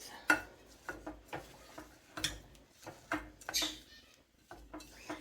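A spoon stirs melting chocolate and peanut butter in a heavy-bottomed saucepan, giving a string of close, irregular scrapes and taps against the pan, some sharper clicks among softer swishes, with no talking.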